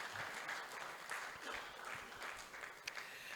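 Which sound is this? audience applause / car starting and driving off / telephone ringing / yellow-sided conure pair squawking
audience applause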